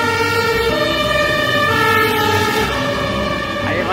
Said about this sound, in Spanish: Ahí va el camión de bomberos